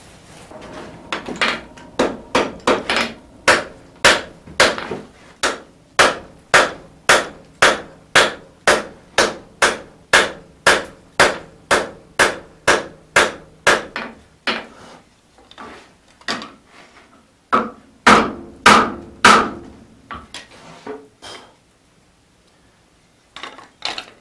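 Heavy hammer blows strike hot steel while forging a hatchet at a welding heat, a long steady train of sharp ringing impacts, loud and close, with a brief pause before a final quicker cluster.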